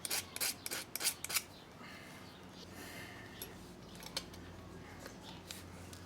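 Small burrs are filed off a model railway chassis, giving a few quick, close scraping rasps at the start, then faint intermittent rubbing strokes.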